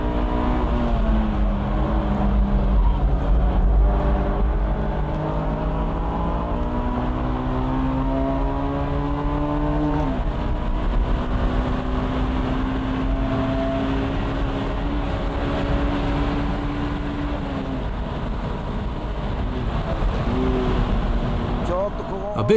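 Honda Type R car driven hard through corners, engine note rising and falling in long sweeping pitches as it accelerates and lifts, steady and close, with people talking over it throughout.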